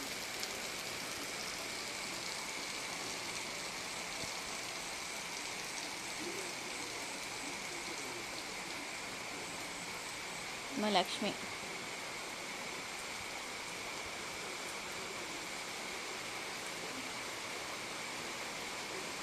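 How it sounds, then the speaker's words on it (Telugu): Heavy night rain pours down in a dense, steady hiss. It carries on unbroken throughout, with a brief clatter near the middle and a faint voice speaking once. "ఇంకా వర్షం అయితే ఎక్కువైపోయింది"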